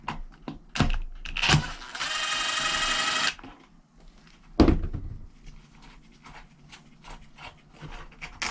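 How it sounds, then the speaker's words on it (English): Casing being taken off the carburetor of a Ryobi string trimmer: a few sharp clicks and knocks, a steady buzzing whir for about a second, then quieter tapping and handling noises close by. "first we'll start taking this casing off this carburetor"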